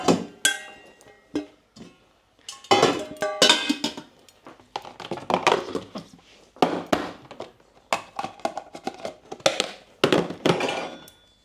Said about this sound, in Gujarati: સવારના વાસણ બધા છે તો બધાને મૂકી દઈએ